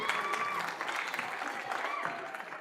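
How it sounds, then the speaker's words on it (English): Audience at an SFJazz school video conference applauding themselves, a dense steady patter of clapping with some voices mixed in. "And give yourselves a round of applause."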